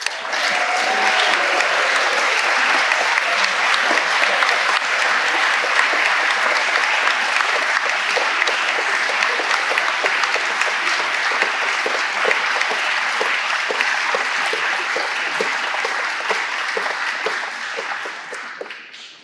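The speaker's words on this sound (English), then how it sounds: "I would ask that we now all offer a round of applause to celebrate those who will be graduating tomorrow" Sustained, loud applause from a large audience at an upper school awards ceremony, honoring students graduating the next day, holding steady for nearly twenty seconds before tapering off at the end.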